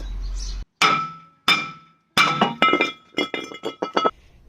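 A hammer strikes a bolt on a 2012 Fiat 500 brake rotor with sharp metallic clanks, a few spaced single blows followed by a quicker run of ringing hits, loud and close with no talking.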